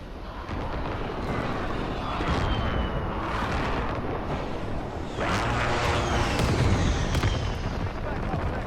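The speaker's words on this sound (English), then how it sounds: "Precision airstrike. Take it. Be advised. Friendly white phosphorus inbound." White phosphorus killstreak strikes in Modern Warfare, a run of heavy booming blasts and rumbling impacts with whooshing incoming sounds, loud and continuous, with voice lines over the top.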